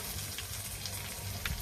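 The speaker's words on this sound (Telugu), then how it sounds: "ఆ ఉల్లిపాయను మనం ఈ పోపు గింజలో వేసుకోవాలి" Chopped onion dropped into hot oil with frying tempering seeds gives a steady, moderate sizzle with low crackle throughout, no voices.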